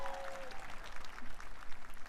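Crowd applauding a singer at an outdoor Liberation Day inauguration ceremony, a broad, distant-sounding wash of clapping that swells and dips, with a brief tonal note at the start.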